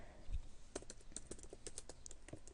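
Faint, quick clicks of a computer keyboard as someone types code for a Minecraft mod, in irregular bursts of keystrokes in a quiet room.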